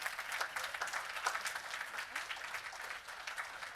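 Faint applause from an audience at an awards ceremony for partners, a steady patter of many hands heard from a distance and quietly for a few seconds.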